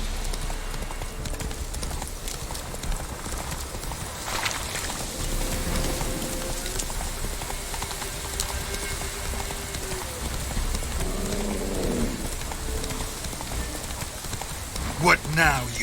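Roach, a horse in The Witcher 3, trots with a rhythmic clip-clop of hooves that carries on without a break, close and fairly loud over a soft wash that sounds like rain.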